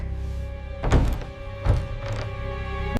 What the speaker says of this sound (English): The door is stuck.